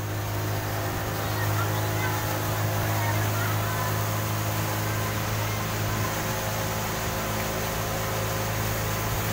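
A speedboat engine runs with a steady, loud drone and low hum throughout, on the water during an evening outing when the boat had run low on fuel.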